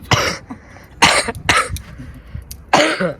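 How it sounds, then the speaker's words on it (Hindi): Four sharp, loud coughs in separate bursts, with short pauses between them and a longer gap before the last one, close to the listener. "भाई को भी खांसी हो गई है"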